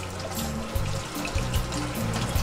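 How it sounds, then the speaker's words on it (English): Tap water runs steadily over leafy greens being rinsed and rubbed by hand in a sink, a continuous splashing flow with small shifts as the leaves are turned. "Here we're going to rinse off and rub these leaves."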